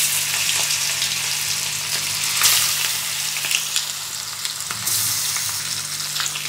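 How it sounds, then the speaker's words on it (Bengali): Marinated mutton hitting hot oil with fried whole spices such as cloves for a Mughlai mutton curry, sizzling loudly and steadily throughout, with scraping stirs and a burst of spitting near the start. "এবার ম্যারিনেট করা মাংসটা দিয়ে দিচ্ছি।"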